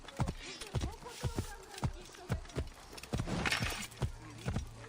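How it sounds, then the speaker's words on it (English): Horse hooves galloping through a town in the Assassin's Creed Origins video game, a rhythmic series of sharp, close thuds repeating steadily throughout, heard alone over a faint ambient bed. "Come on, horse. Run faster through town."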